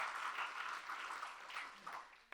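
Quiet applause from a church congregation during a morning worship service, with the clapping swelling and easing in soft waves, heard from some distance with no clear speech over it.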